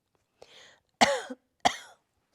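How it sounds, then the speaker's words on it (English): Three short coughs in a row, the second and third louder and harsher, with brief silence between them. "I am coughing."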